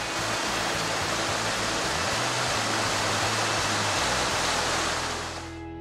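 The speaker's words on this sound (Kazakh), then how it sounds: "Таудың күркіреп аққан өзенінің суықтығы миыңнан өтеді." A roaring mountain river rushes with a loud, steady wash of broad, hissing water noise that stays constant throughout and tapers off only at the very end.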